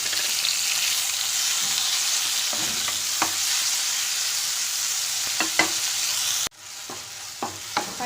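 Chopped tomatoes and green chilli sizzle steadily in a pan for palak dal, a constant broadband fry with a few stirring scrapes and clinks, briefly interrupted before the sizzle resumes more quietly.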